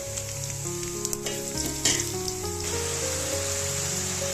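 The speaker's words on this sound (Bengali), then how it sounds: "আমি একটু পেঁয়াজের ভিতরে জিরে, কাঁচা জিরে দিয়ে ফোড়ন দিয়ে দেবো।" Cumin seeds sizzling in hot oil with fried onions for a fish and plantain curry, a steady close crackling fry with occasional sharper pops and stirring scrapes, no voices.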